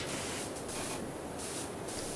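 A pressure washer in PowerWash Simulator sprays a beam in a steady, hissing rush of water, constant and fairly quiet throughout, with slight swells where the spray shifts.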